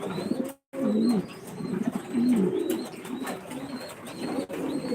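Pigeons, including white, blue and black King breeds, cooing steadily at a pigeon farm in Senbag, Noakhali, several birds overlapping in close, continuous throaty coos.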